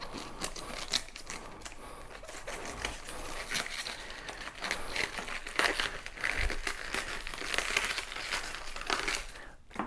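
Cabbage leaves torn off a head by hand for homemade sauerkraut, a steady run of close crinkling, crunching and tearing sounds, with no one talking over them.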